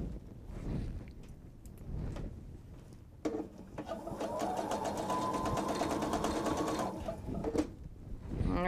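A sewing machine runs steadily through several layers of fabric while stitching a travel tote, sewing continuously for a few seconds after quieter handling sounds, close and fairly loud.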